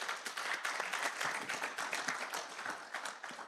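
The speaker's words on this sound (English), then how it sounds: "let's give her a round of applause" An audience at a private medical and dental practitioners' annual general meeting gives a steady round of applause, dense clapping throughout.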